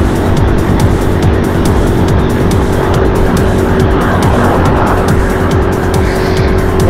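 A motorcycle rides through Tokyo streets toward Tokyo Tower, its engine droning steadily and loud under constant wind and road rumble with no voices.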